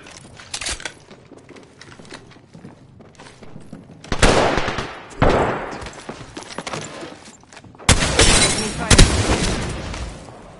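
Bursts of gunfire in Apex Legends, a busy battle royale shootout: rapid volleys crack loudly at about four, five and eight seconds, with a quieter rattle of distant shots in between.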